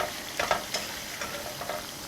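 Potato fries frying in hot oil give a steady, close sizzle, with a few brief louder crackles and some light stirring in the pan. No one speaks.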